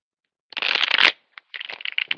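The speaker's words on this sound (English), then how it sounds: "Let's give it a shuffle with the other cards" A deck of tarot cards shuffled in two quick bursts of crisp riffling and flicking, close and clear, separated by a short pause, with no talk.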